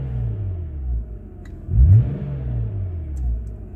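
A BMW car with the M package idles with a low rumble, then gives one short, deep rev near the middle that quickly falls back to a steady idle, heard close up.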